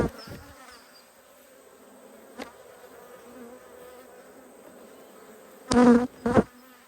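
Honey bees buzz around an open beehive during a beekeeper's nucleus inspection, a steady low drone with a few loud close passes near the end.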